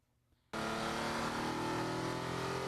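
A Nissan 370Z sports car roars to life on the Red Star Raceway track, its engine jumping from near silence to a loud, steady, strained drone that holds at high revs with no talking.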